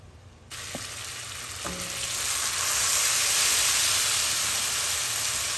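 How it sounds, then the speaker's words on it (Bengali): Spice paste for a vegetarian raw banana curry hits hot oil over a high flame and bursts into a loud, steady hissing sizzle that swells and holds, with a few light clinks of stirring early on. "এবার হাই ফ্লেমে নেড়ে চেড়ে মশলাটিকে কষিয়ে নেব।"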